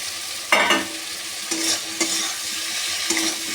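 Potatoes are stir-fried in spice masala in a pan. A steady sizzle is broken by repeated scraping stirs at regular intervals, close and fairly loud, with no voices.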